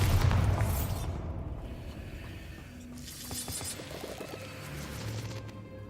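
A Bombarda explosion spell in the Hogwarts Legacy video game gives a heavy, booming blast up close, followed by crumbling debris and a lingering rumble.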